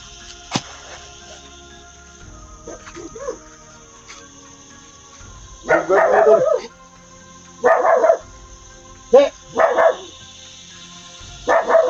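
A dog barks repeatedly at close range, several loud barks in short bursts separated by pauses, with brief voices in between.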